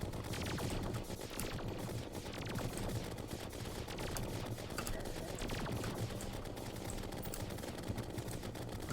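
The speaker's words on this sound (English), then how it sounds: "And this time with chlorophyte bullets." Rapid, dense gunfire of chlorophyte bullets in Terraria, a steady crackling stream of shots that runs unbroken for the whole stretch with no talking.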